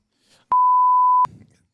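A single steady censor beep, a pure tone lasting under a second, blots out a spoken name on a podcast, with faint speech fragments just before and after it.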